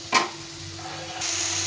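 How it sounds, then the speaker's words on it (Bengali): Chopped tomato fries with spices in a pan, a steady soft sizzle with a brief stirring scrape near the start and the frying growing brighter toward the end. "এই মশলার সঙ্গে টমেটোটা ভালো করে ভেজে নেব"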